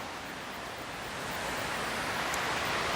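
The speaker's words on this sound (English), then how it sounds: "You can actually hear the waterfall." Steady broadband rush of a waterfall in a rainforest along a gallery walk, a continuous hiss that swells slightly louder over the stretch with no voices.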